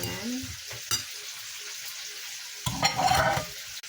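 Boquerones fish and sliced onion dropped into a hot pan, a hiss of frying with a few sharp clatters as pieces land, then a louder burst of sizzling near the end.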